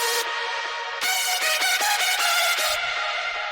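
Hardstyle lead synth layer built in FL Studio, a loud, dense, bright buzzing tone with a short gap, then a burst of rhythmic stabs before sustaining, alone and upfront.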